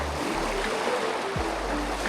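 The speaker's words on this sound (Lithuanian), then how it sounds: "kitos didžiulės bangos neša vandenį į krantą" Large waves wash steadily onto the shore of the Kaunas Reservoir near Kruonis, a continuous broad rushing wash close to the listener with a low rumble and no talk.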